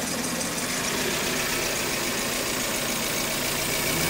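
A 2003 Hyundai engine idles with a misfire, a close, steady mechanical hum with a faint irregular knock running through it, no voices present.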